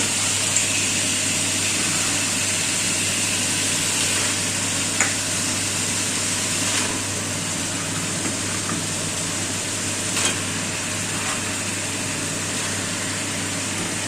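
Chicken pieces frying in hot spiced oil, a steady close sizzle with occasional crackles and light stirring knocks over a faint background hum.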